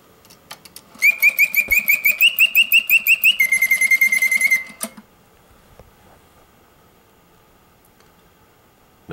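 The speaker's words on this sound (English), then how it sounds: "Beak opens and closes, the tail flutters, all in conjunction with the oscillating bird song, and the head also rotates from left to right." A restored Karl Griesbaum singing bird cage automaton gives a bright, rapid, warbling trill for about four seconds over a soft mechanical ticking, then stops and leaves only faint clicks during a long pause.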